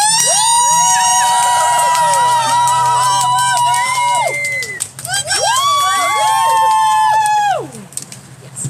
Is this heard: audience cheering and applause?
yes